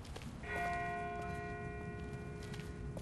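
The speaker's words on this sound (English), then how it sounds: "That's not the same bell as before. This one's further off." A distant church-style bell tolls in The Walking Dead video game, one sustained ringing strike with long harmonic overtones that hang steadily over a low rumbling background, with no speech.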